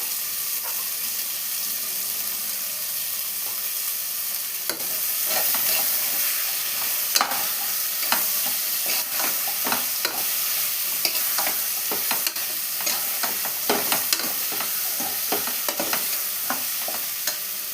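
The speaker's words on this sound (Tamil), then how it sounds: "கொஞ்சமாக உப்பு சேர்த்து வதக்குனீங்களன்னா டேஸ்ட்டாக இருக்கும்." Chopped vegetables with salt frying in a pan, a low, constant sizzle that grows louder partway through, punctuated by frequent sharp scraping and tapping strokes of a spatula, no speech.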